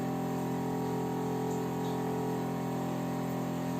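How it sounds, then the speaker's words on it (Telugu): Drain water runs steadily into a vessel from a Kangen water machine, a constant close hiss and trickle with a humming motor or pump tone underneath and no pauses. "ఇందులో నేను డ్రైన్ వాటర్ పడతాను."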